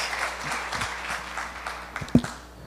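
A church congregation applauds in a dense, steady wash of clapping lasting a few seconds at moderate distance, with one sharper thump near the end and faint voices underneath.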